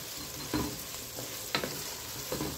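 Spices and macaroni with sausage being stirred in a sizzling frying pan, with a steady frying hiss and three distinct scraping stir strokes, close and moderately loud, no voices.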